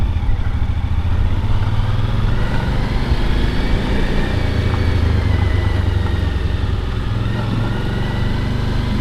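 A Suzuki V-Strom dual sport motorcycle rides slowly along a leaf-covered driveway, its engine a steady, close, low rumble that never lets up, with some clatter over the ground underneath.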